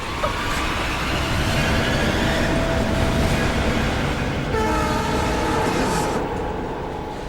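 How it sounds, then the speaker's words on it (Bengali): A train races along the tracks at high speed, a loud, continuous rushing rumble with rattling wheels and a drawn-out horn-like tone near the end, heard close and alone. "ট্রেন কিন্তু খুব স্পিডে চলছে"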